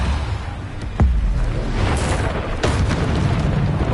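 Bombarda blasting spells in Hogwarts Legacy land as two deep, booming impacts, the first sharp and heavy and the second a little softer, over a constant low rumble of game ambience.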